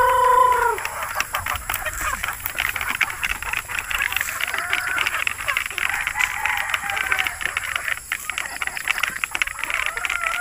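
Four-month-old Beatles White gamefowl chickens clucking and calling in a yard, with a crow-like call at the start followed by scattered near clucks and pecking sounds.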